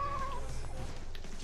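A cat gives a single short meow right at the start, fairly close, then only a low background hum remains.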